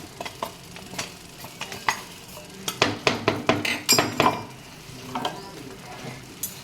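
Greens with masala and salt are stirred and mashed in a stone-lined pot, giving close scraping and clinking strokes in uneven bursts, busiest in the middle, without talking.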